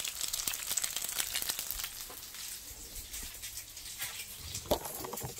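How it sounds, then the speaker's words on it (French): A galette fries in a pan with a soft, crackly sizzle and scattered light pops that continue steadily at a low level, a little busier at the start, with no voices. "Dès que ça grille d'un côté, je vais retourner ça de l'autre côté pour que ça puisse griller"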